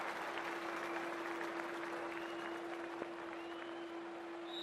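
A stadium crowd at a cricket match in the Cricket 24 video game applauds and cheers in a steady, dense wash of clapping that holds at an even level throughout, with a faint sustained tone running underneath.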